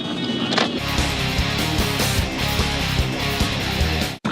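A Suzuki SX4 drives along a city street on a steep descent, with steady road and engine rumble, dull bumps and rattles from the cabin, and no talk.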